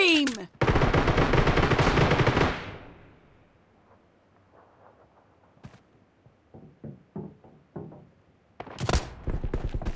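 Gunfire in the mobile battle royale game BGMI: a loud, rapid automatic burst for about two seconds, then scattered single shots and thuds, and another loud burst near the end.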